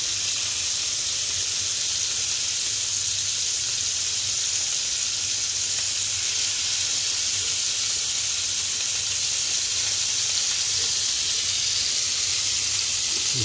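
Cevapcici frying in a pan, giving a steady, loud, close sizzle with constant hiss and crackle throughout, no talking.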